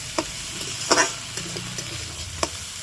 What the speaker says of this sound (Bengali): আদা কাঁচা লঙ্কাটাকে সেতো করে ভালো করে সেতো করে দিয়ে দিতে হবে